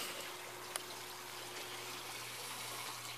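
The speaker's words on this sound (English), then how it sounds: "let me let you see the swirl filter in action" Water swirls steadily through an aquaponics swirl filter, a continuous close trickling and gushing wash with no voices.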